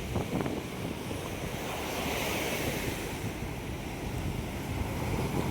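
Steady rushing surf of ocean waves at a sandy beach in Chennai, continuous and fairly loud, with wind buffeting the microphone throughout and no voices.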